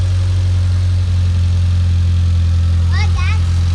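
A Mitsubishi Evo X engine idles steadily after a spark plug change, a loud, constant low drone with a slight uneven pop late on and a brief whine over it.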